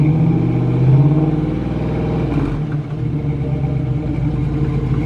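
A 1969 Camaro with a loud aftermarket exhaust pulls away, its deep rumbling roar swelling briefly as it revs and then holding steady as it drives off, with no talking over it.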